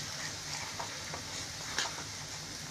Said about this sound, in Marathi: हा मी रवा तुपामध्ये असा भाजून घेणार आहे।